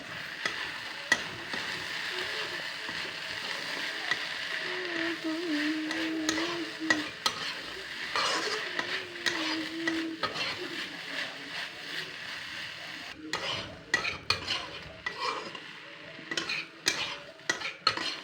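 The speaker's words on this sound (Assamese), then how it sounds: "জিৰা আৰু ধনিয়া, আৰু অলপ লৰাই দিম।" Cumin and coriander stirred in a pan with taro stolons, ginger and garlic in an Assamese kitchen: a steady sizzle under repeated scraping and clinking of a spoon against the pan, growing busier toward the end.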